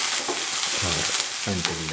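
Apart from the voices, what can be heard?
sautéing green chili, spring onions and cauliflower in a pan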